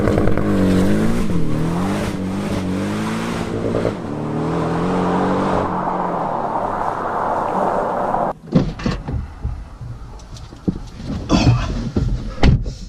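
A 4-cylinder Porsche Cayman with sports exhaust revs and accelerates loudly, its engine note rising and sweeping before cutting to a rougher, burbling idle with intermittent bursts and pops, close and dominant.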